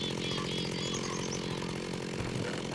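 A chainsaw in the Tekkit Minecraft modpack runs in one loud, continuous, buzzing drone that never lets up, with no voices over it.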